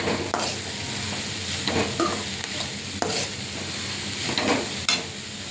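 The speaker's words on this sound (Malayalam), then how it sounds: "മഞ്ഞൾപ്പൊടി, നല്ലോണം മിക്സ് ചെയ്യുക." Turmeric powder being stirred into a sizzling pan mixture: a constant frying hiss with repeated scraping spoon strokes, close and fairly loud, no voices.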